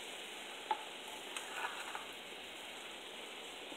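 Potatoes frying in a pan for chaat masala are stirred, giving a steady, close sizzle with a few soft scraping knocks near the start.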